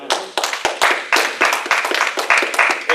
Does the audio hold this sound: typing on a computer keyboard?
no